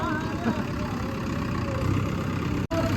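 A low engine rumbles steadily at idle, constant and fairly close, with a brief dropout near the end.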